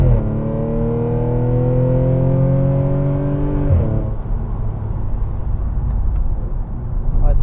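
A 2012 Audi S4 B8 Avant with a 400 hp 3.0-litre V6 TFSI engine pulling hard, its loud note climbing steadily for nearly four seconds before a drop and a quieter coast, with a voice briefly over it.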